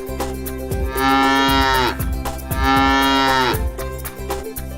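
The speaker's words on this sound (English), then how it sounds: "The cow says moo moo." Two long, loud cow moos with rich harmonic tones stand out over a steady rhythmic musical backing, each lasting about a second, in a children's nursery rhyme farm setting.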